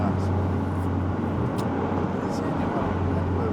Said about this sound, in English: The sound of this car is beautiful.